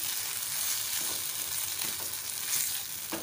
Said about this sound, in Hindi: इसको हम अच्छे से सौते करेंगे